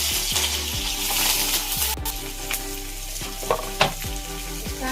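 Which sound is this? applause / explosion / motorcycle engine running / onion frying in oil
onion frying in oil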